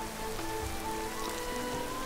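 Rain falling in the fantasy game Skyrim, a steady hiss of drops on surfaces filling the whole moment, with faint tonal ambience underneath and no voices.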